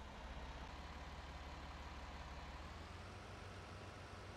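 A tractor engine idles and runs in Farming Simulator 19 on a Midwest farm map, a steady low diesel rumble that holds evenly and faintly throughout with no talk.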